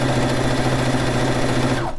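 Sewing machine stitching fish-themed quilt blocks, a loud, close, continuous mechanical whir with steady stitching rhythm that winds down and stops at the end.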